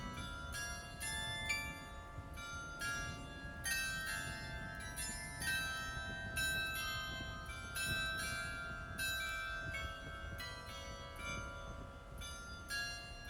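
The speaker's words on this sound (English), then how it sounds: "we heard this, clock going off, this bell" Clock bell ringing out in a town street in Curacao, a steady run of bright metallic strikes over a continuous background hum, moderately distant and without talk.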